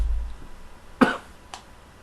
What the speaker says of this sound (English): I'm coughing a lot.